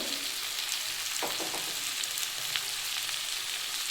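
Ground cumin and other dry spices frying in oil for a cauliflower and potato curry with prawns, a steady close sizzle with a short burst of stirring scrapes, no speech.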